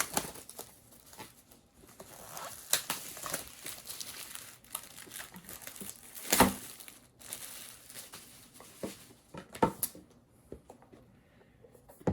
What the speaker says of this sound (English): So there's just a little pull tab that you just pull.